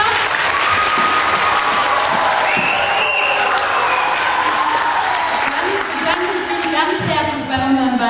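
An audience applauds steadily and loudly throughout at a children's university event, with a broadcast program presenter's voice and faint tones mixed over the dense clapping.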